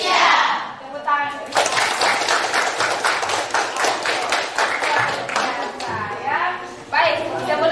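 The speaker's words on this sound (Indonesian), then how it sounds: "Tepuk tangan." Classroom of vocational school students bursting into applause, a dense burst of rapid hand claps that starts abruptly and runs for several seconds, with voices heard briefly before and after.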